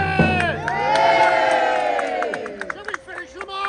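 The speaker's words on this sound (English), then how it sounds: "Give us a cheer!" Crowd of soldiers cheering and shouting together at an American Revolutionary War re-enactment skirmish in a meadow, a loud sustained roar of voices that breaks into scattered whoops and calls near the end.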